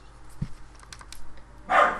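A single dog bark bursts out near the end amid quiet Fallout 4 gameplay, preceded by faint clicking keyboard taps.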